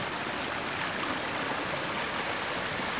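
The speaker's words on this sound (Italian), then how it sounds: "Siamo sempre qui a Como col nostro torrentuccio" A small stream flows near a home in Como, a continuous rushing, gurgling wash of water close by, even and unbroken with no voices.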